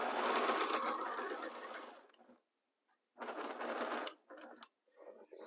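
Sewing machine stitching fabric for a shoofly quilt block, running loud and steady in a long burst, pausing, then resuming in shorter bursts with small handling clicks in between.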